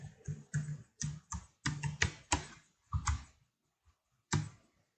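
Someone types on a computer keyboard in quick clustered bursts of clicky keystrokes, close and clear, with short pauses between runs. There is no talking.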